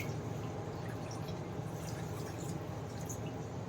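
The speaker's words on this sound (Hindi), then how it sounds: "कढ़ाई को हम थाली से ढक देंगे और थाली में डाल देंगे हम पानी।" Water poured onto a metal plate that covers a wok of mixed vegetables cooking on a gas stove, a soft, steady trickle and drip that is faint and continuous and carries no talk.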